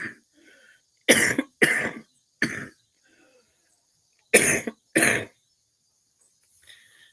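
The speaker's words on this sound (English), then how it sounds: "I start to cough again" A person with a chemotherapy-related dry cough gives five sharp, close coughs in two clusters, with quiet gaps between them and a faint throat sound near the end.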